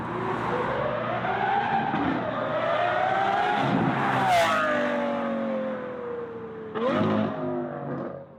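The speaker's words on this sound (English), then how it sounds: "every Lamborghini should sound like this" Lamborghini Aventador SVJ with a V12 exhaust makes loud flybys on a road, engine note rising and falling as it screams past, with a second pass approaching near the end.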